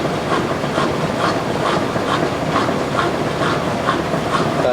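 A 2002 Kelvinator K605 washing machine runs a regular cycle with colors, giving a steady close whir with a soft rhythmic thump repeating roughly twice a second.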